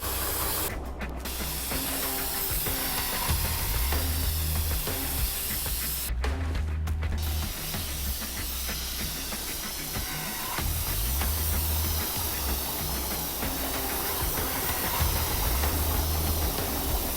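An aerosol spray can hisses loudly and continuously as graffiti is tagged in a video game, with two brief pauses early on before the long steady spray resumes.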